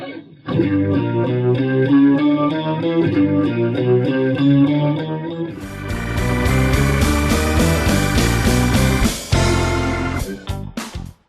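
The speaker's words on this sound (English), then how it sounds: "for this I'm using my Digitech Expression Factory, and I'll just put in a compressor as well there for my sound" An electric guitar runs through a Digitech Expression Factory with a compressor, starting with a chiming picked riff, then switching to dense, full strummed chords with an effected shimmer, loud and close, ending in a few sharp stabs.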